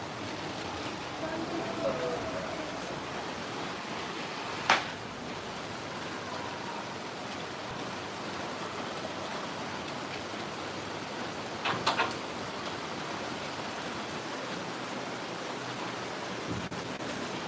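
Heavy rain pours down at Talegaon Dabhade on a Diwali evening, a steady, dense hiss that lasts throughout, broken by a couple of brief sharper knocks.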